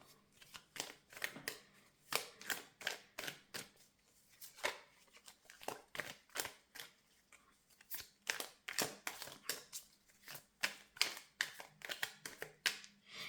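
A deck of tarot cards is shuffled by hand in quick, uneven bursts of riffling and slapping, close and fairly quiet, with brief pauses between runs.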